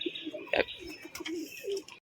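Pigeons in a loft coo in soft, low repeated phrases, joined by a brief sharp flutter or clatter and faint background noise, with no voices.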